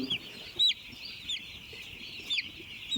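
Broiler chickens cluck in short, scattered calls, a few sharp bursts spread over a few seconds against a low background hum.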